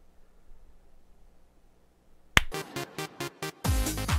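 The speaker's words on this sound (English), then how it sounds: "Clap test." After a quiet lead-in, a series of sharp claps rings out, five or six evenly spaced, each with a short echoing tail, then a louder burst.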